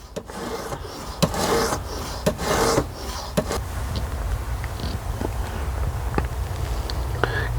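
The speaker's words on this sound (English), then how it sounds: "So this is edge trailing strokes that I'm still doing. It's 120 grit EdgePro Whetstone." A CPM 3V steel knife is sharpened on a 120 grit EdgePro whetstone with edge-trailing strokes, giving a steady gritty rasp of repeated rubbing passes punctuated by a few sharp ticks.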